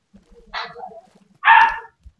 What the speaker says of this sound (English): Oh, puppies. Puppies.